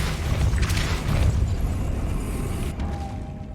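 Confringo and Depulso spells cast in Hogwarts Legacy, heard as a sustained booming, rumbling blast with a crackling burst that fades out near the end.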